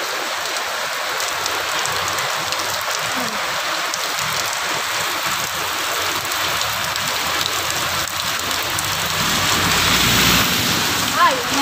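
Heavy rain pours steadily outside during a flood, a dense, unbroken hiss that holds at an even level throughout and swells slightly near the end.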